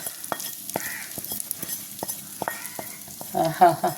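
Shallots and garlic fried in coconut oil are stirred into beef and tapioca, with a spoon knocking and scraping the pot in a loose rhythm over a soft sizzle and a faint voice near the end.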